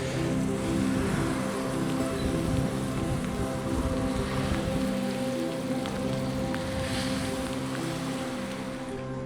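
Steady rain drums on a car while driving near hills, a dense continuous hiss over low engine and road rumble, loud and unbroken throughout with no voices.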